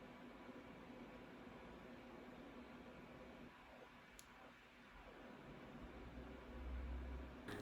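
Faint, steady refrigerator hum under soft background hiss, constant throughout with no voices.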